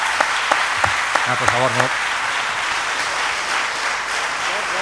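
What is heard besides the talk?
audience applause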